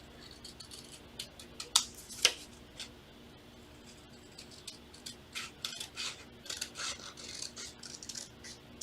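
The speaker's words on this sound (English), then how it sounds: "I need to trim it out a little bit better." Scissors trimming a sublimation print for a shot glass, with a run of quiet, close snips and crisp cutting clicks spread irregularly over several seconds.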